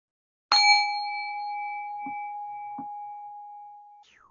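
A single meditation bell is struck once at the start of an evening meditation session, giving a clear bright strike. Its pure ringing tone then sustains and slowly fades for several seconds, with two soft low knocks partway through the decay.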